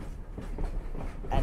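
A steam train rolls along the tracks, a low, steady rumble with faint rhythmic clatter, close and fairly quiet, with no talk.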